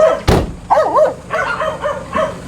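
Dogs bark and yelp nearby, a sharp bark followed by several whiny, wavering yips in quick succession.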